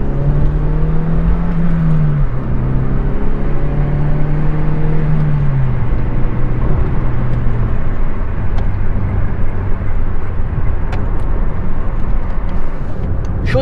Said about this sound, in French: Voiture tuning.